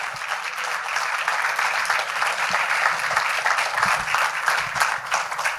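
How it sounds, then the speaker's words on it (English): Audience applause at a cricket press conference, a continuous even wash of clapping from many hands, fairly close and steady throughout. "can we have a huge round of applause for them?"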